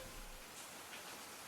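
Steady rain falls outdoors as a continuous, even hiss of broadband noise with no breaks, faint and close.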